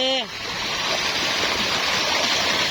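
Artesian spring water about 50 km from Kapchagay, where children are bathing, flows as a loud, continuous rushing hiss close by, after a brief voice at the very start.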